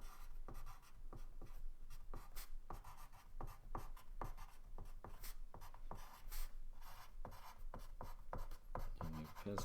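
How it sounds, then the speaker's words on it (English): A pencil draws a freehand sketch outline on paper with quiet, close scratchy strokes, short repeated scrapes and rubs in an irregular rhythm, heard alone at low level. "pencil needs to be sharpened a little bit already, but so draw a detailed outline"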